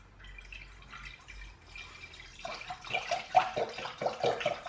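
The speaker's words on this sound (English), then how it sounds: "put the entire carton of apple juice into a standard sized saucepan" Apple juice from a carton pours into a saucepan, with soft drips at first and then a louder splashing gurgle, close and without talk.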